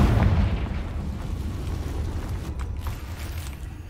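A Confringo fire spell from Hogwarts Legacy bursts as a heavy, rumbling explosion that starts loud and decays into a sustained low roar, with a few faint crackles near the end.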